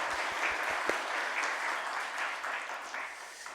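A church congregation applauding during a Sunday morning worship service, a sustained wash of many hands clapping with a few sharper claps early on, fairly distant and gradually thinning toward the end.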